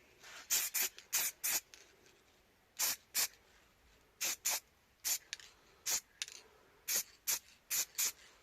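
Short spray-can bursts laying a light coat of paint on a Suzuki FZ50 moped part, about a dozen separate hissing puffs in uneven groups, close and fairly loud with quiet gaps between.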